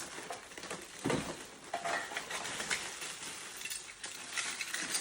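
Aluminum frying pans clatter and scrape against each other in a continuous, busy jumble of clanks and rattles, fairly close.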